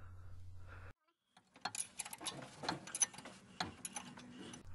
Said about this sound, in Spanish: Aún con el perno en su alojamiento, giraré lo que es la corona